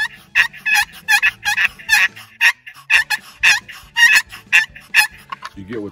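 Rapid, rhythmic raspy yelps and purring notes from combined box and push-pull turkey calls imitating a fighting purr, repeated loudly and close in an agitated, continuous run.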